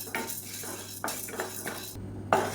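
Chana dal and toor dal dry-roast in a pan for spice powder, a metal spoon scraping and clinking against the pan in repeated stirs over a faint steady background hum.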